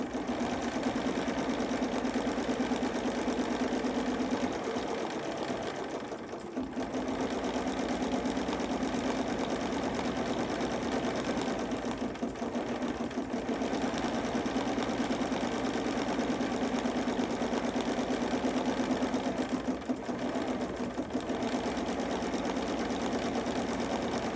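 An embroidery machine sews a quilting stitch on a fabric hot pad, running as a steady, rapid mechanical whirr with brief pauses about every six to seven seconds, loud and close without talk.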